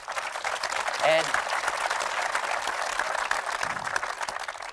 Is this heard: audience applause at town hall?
yes